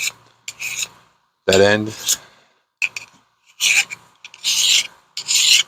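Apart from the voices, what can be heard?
filing metal end with coarse mill bastard file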